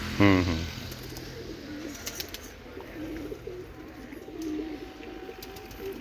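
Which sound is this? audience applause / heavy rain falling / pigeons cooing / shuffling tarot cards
pigeons cooing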